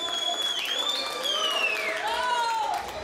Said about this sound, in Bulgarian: Аплодисменти, ако обичате!